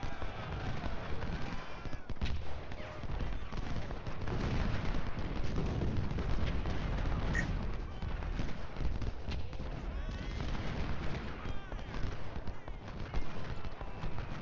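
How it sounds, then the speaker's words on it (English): Artillery in the Civil War game Ultimate General booms repeatedly across a dense battle soundscape, the heavy thuds blending with continuous gunfire and distant clatter. "I already asked my artillery to start firing on this brigade."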